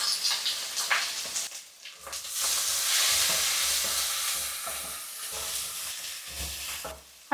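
Chopped ginger, garlic and green chillies sizzle in hot oil for ripe mango pickle, a dense hissing fry that swells and fades with stirring scrapes and occasional utensil knocks, no talking.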